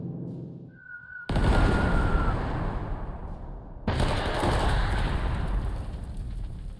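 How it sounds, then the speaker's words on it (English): Heavy artillery bombardment in the WWII strategy game Panzer Corps 2, a short tone, then a sudden roaring barrage that rumbles on, with a second loud blast kicking in midway and continuing as a thick, sustained rumble. "Maybe I can bombard."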